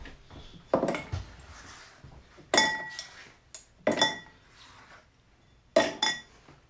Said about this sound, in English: let me just grab some ice, and we will do some stirring of this